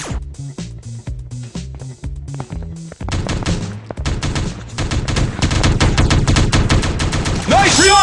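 Rapid video-game gunfire from Teddy Bear Gun Strike, starting as evenly spaced single shots and building into dense, continuous automatic bursts, loud and up front, ending with a short electronic effect.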